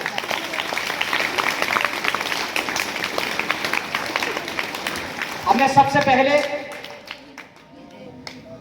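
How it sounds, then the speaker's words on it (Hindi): Schoolchildren at a government senior secondary school clap together in a broad burst that fades out, with a voice speaking over the end. "तो सभी बच्चे अपने अपने लिए तालियां बजाएं।"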